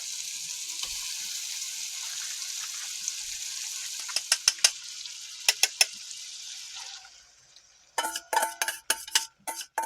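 Grass-fed butter sizzles and simmers in a pan with a steady hissing fry, then a few sharp clinks of a utensil against the pan, a brief quieter gap, and a burst of louder crackling and tapping.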